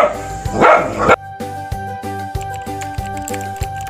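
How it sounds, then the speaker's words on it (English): A domestic dog barks in an energetic, close burst over a bouncy music bed, then the music carries on alone. "The dog is a domestic animal."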